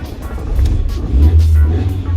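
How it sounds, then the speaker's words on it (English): A VW Citi Golf Mk1 with a carbureted engine cranks and catches, a loud close low mechanical churn that swells into a deeper running rumble partway through. "Alright, let's start this thing up."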